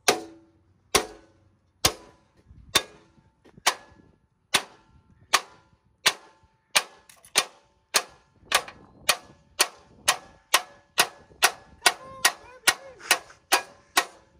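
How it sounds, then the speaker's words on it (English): Metal hammer blows ring out against a leaf spring hanger on a 3/4-ton truck frame, sharp isolated strikes starting slow then quickening into a steady rhythm, about two dozen hits, close and loud. "I think you're actually gonna have to hammer it, yeah."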